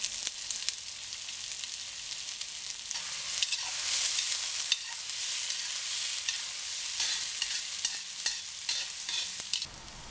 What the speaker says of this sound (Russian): когда масло нагрелось, обжариваем хорошенько лук